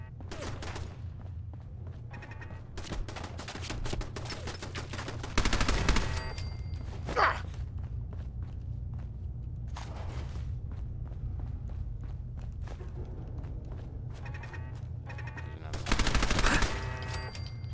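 Automated turrets firing in Fallout 4, with rapid machine-gun bursts over a steady game ambience and footsteps, the loudest volleys coming in two heavy clusters.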